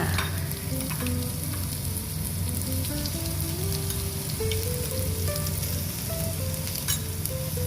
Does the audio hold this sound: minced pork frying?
yes